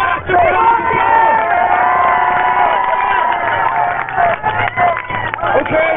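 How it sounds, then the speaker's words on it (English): An indoor crowd at an Irish rally cheers and whoops loudly and steadily, with shouting voices and some clapping mixed in, holding a dense roar across the whole stretch. "Give him a massive round of applause."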